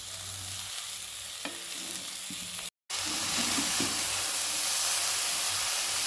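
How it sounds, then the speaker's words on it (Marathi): Chopped kardai (safflower) greens tossed into a hot pan, with a brief cut-out followed by a louder, steady close hiss and sizzle as they fry. "आता ही जी करडई आपण चिरून घेतली होती ती याच्यात टाकून घेऊया"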